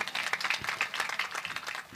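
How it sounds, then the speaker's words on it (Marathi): Audience clapping at a Marathi kirtan performance, a steady patter of many hands with fairly even, dense claps across the whole stretch, moderately loud and without speech over it. "टाळ्या वाजवा."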